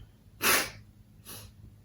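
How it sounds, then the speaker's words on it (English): A single sharp sneeze bursts out, followed a moment later by a softer sniff or exhale, both fairly close and quiet overall. "I'm gonna sneeze."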